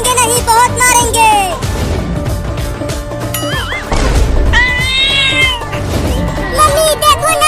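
A cat in an animated story meows loudly and repeatedly, with rising and falling wails. Music, crash effects and cartoon voices play over and between the calls.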